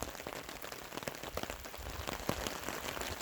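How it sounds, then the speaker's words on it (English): Steady rain patters on a camping tarp, a dense, even hiss of drops with scattered sharper taps, close by and fairly quiet, with no voices. "the rain's getting heavier"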